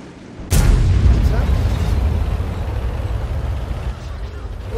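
Artillery strike landing on a T-34-85 and a Prima Victoria tank in a video game, a sudden loud boom followed by a long rumbling roar that slowly fades.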